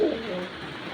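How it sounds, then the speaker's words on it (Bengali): Short, close pigeon coo from a pair of Grizzle racing pigeons, a low throaty call that fades over under a second against a soft background hiss; no talking. "তো এটা হলো থরের কবুতর"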